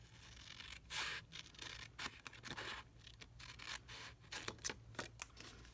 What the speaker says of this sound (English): just going to grab our trimmer, little paper snips here, and we're going to cut